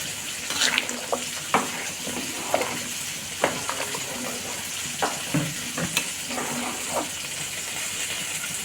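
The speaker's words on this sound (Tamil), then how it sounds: "நல்லா கொதி வந்துடுச்சு. இந்த டைமில் தயிர் ஊற்றிக்கலாம்." Curd goes into a boiling mutton biryani masala, a watery bubbling and hiss with scattered light clicks and stirring taps, moderately close and fairly quiet, continuous throughout.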